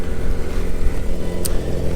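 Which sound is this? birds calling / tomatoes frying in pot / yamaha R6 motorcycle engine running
yamaha R6 motorcycle engine running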